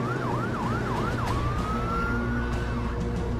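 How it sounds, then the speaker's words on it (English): Wailing emergency vehicle sirens respond to an airliner crash at San Francisco, the Asiana 214 aircraft with a burning engine; a rising-falling yelp gives way to a long steady wail over a dense, continuous rumble of traffic and engines. "emergency vehicles are responding."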